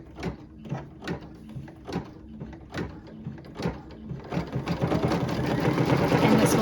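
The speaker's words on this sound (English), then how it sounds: "this will stitch one pass of running stitches to tack it down, and then immediately go into the bean stitches" An embroidery machine stitches running stitches to tack down carrot-nose appliqué fabric. It starts with separate rhythmic needle thumps, then settles into a fast, continuous whirring stitch, close and fairly loud.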